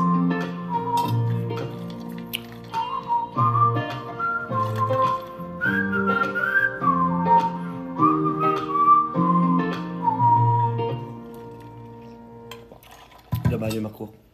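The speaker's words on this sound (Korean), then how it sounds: "이 휘파람은 내가 안 불렀어." Whistled melody drifting over a backing music track during a livestream, a steady tonal line rising and falling across the phrase, moderately loud and continuous for most of the clip.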